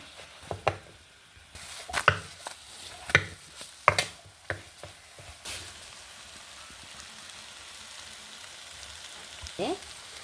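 Wild mango pieces roast with masala in a pan, sharp scraping knocks of the spoon coming in a quick cluster before settling into a faint, even sizzle.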